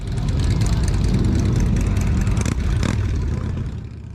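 A loud, continuous roar of many motorcycles riding into Port Dover, Ontario on Friday the 13th, a dense rumbling engine drone that swells and then tapers slightly toward the end.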